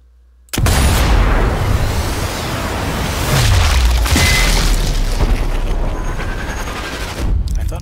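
A cannon booms in the video game Sniper Elite 4, a sudden loud blast followed by a long rolling rumble and a second heavy impact partway through, sustained and dense to the end.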